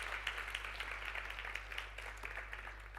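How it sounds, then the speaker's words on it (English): A crowd claps in a steady, continuous patter, moderately loud, with individual claps popping out of the dense wash of hands. "Let's give her another warm round of applause."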